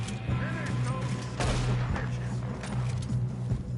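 Gunfire from a Western-era shootout in Red Dead Redemption 2, loud repeated shots and booms over steady low rumble with no clear gaps, dense and continuous through the short stretch.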